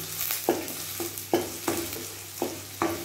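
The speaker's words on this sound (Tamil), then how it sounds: "இப்போ நம்ம வெங்காயம் வதங்கிட்டு இருக்கிறப்ப வரமிளகாயும் கருவேப்பிலையும் ஆட் பண்ணிக்கலாம்." Onions sauté in hot oil for a horse gram chutney, with a soft sizzle underneath and about six sharp spatula scrapes against the pan at an uneven pace, close and clear, with no voices.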